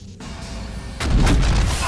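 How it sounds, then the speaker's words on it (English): A secondary weapon fires in Alien Swarm, a heavy booming gunfire burst that starts after a brief steady rumble and stays loud and sustained to the end. "I fired my secondary."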